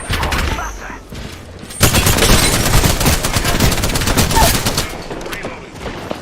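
Video game gunfire in a battle royale match, rapid bursts of shots that start loud and dense after a quieter stretch and continue as a sustained fusillade, with voices talking over it.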